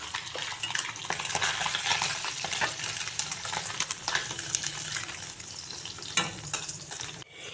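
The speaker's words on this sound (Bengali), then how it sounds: "এই তেলেই আমি কাঁচা কলাগুলি ভেজে নিচ্ছি" Raw green banana pieces fry in hot oil left over from frying fish, a steady dense sizzle throughout with occasional stirring clicks and scrapes, close and fairly loud with no talking.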